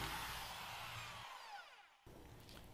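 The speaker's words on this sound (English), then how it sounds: "I grabbed the drill and drilled the rest of the way through the side of the manure spreader" Power drill boring through the side wall of a manure spreader for a bearing bolt hole, a steady close whine that winds down briefly and then resumes.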